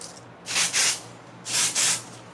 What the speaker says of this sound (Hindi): सेट करने के लिए हम यूज़ करेंगे अपनी स्प्रे।